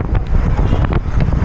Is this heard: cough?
no